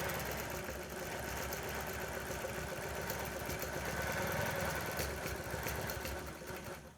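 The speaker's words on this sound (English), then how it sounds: "we'll just take some stitches and start stitching" A Gammill longarm quilting machine stitches a Harley T-shirt quilt with a faint, steady mechanical whir and rapid needle chatter, continuous and even.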